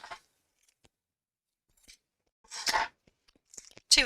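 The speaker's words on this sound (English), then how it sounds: "Let's cut these down" Scissors snip through fabric for a sewn evening bag in a few short, crisp cuts separated by silence, close and clear, with the loudest snips near the end.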